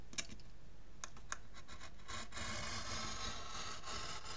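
Craft knife blade drawn through paper along a ruler mark to cut a slot for a scrapbook folio page, heard as close scratchy scraping strokes and faint clicks, continuous in the second half with no talking.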